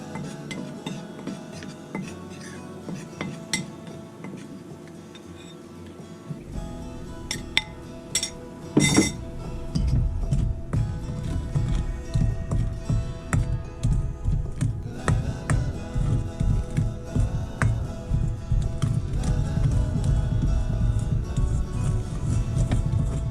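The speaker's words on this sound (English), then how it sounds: "I'm going to get that stirred up" Dry oatmeal cookie ingredients, flour, baking powder and cinnamon, stirred in a bowl, with a spoon clinking and scraping against the sides in a steady, close rhythm that grows busier midway.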